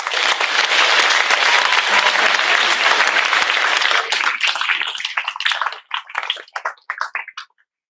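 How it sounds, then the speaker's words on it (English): Students applaud in a school awards assembly, a loud dense round of clapping that stays full for several seconds, then thins to scattered claps and stops. "Give yourselves a round of applause."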